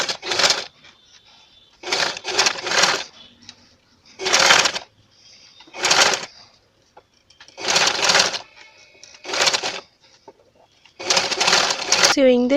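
A sewing machine stitches the turns of a plain frock in repeated short bursts of rapid stitching, stopping and starting about every second or two, with near silence between runs.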